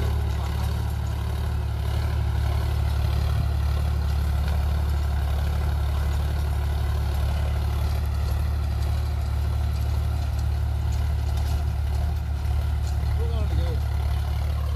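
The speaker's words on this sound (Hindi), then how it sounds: "40 प्रो ट्रैक्टर 7 फुट रोटावेटर चलाने थोड़ी दिक्कत होती है।" A Sonalika 35 tractor working a 7-foot rotavator, its engine a loud, steady, close drone that runs unbroken through the whole stretch.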